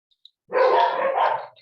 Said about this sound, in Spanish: entre los ladridos de mis perros